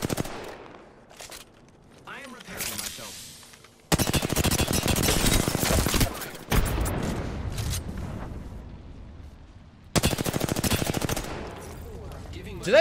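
Spitfire light machine gun fire in the shooter game Apex Legends: long, loud bursts of rapid automatic shots separated by brief lulls, with the gunfire close and dominant.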